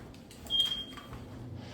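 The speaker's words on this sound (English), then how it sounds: "you have a smoke detector somewhere that's battery is low" A smoke detector with a low battery gives a single short high chirp inside a house, faint and brief, against quiet room noise and footsteps.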